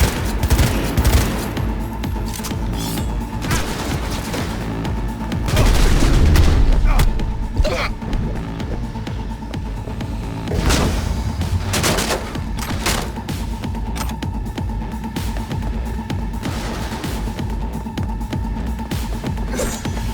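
Gunfire in the video game Cyberpunk 2077, a loud stretch of repeated shots and booming blasts with heavy low thumps, continuing throughout amid background game sounds and brief voices.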